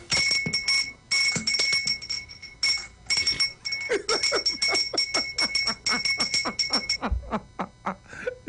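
A bell is rung by hand out on a street, struck in rapid, repeated bursts with bright ringing tones, loud and close, with short pauses between runs.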